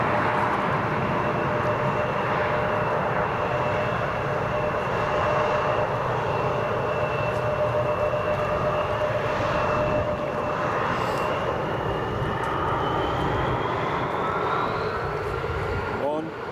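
A jet airliner runs up its engines on the runway at Newcastle International Airport, a loud, steady roar with a sustained whine that rises toward the end, heard from a distance.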